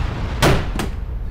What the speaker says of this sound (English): this was the first time in many months where I slammed my joystick in a fight